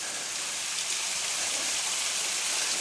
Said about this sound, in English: There are tons of waterfalls on this trip.